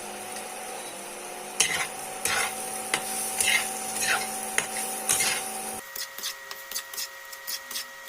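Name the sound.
potatoes frying and being turned in a pan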